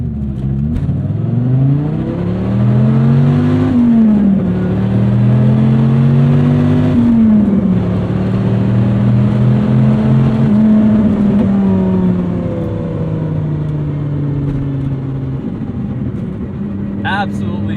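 A 2006 Dodge Viper SRT-10 Coupe pulls hard through the gears, its V10 roar climbing in pitch, loud and sustained from inside the car, with a voice speaking over it.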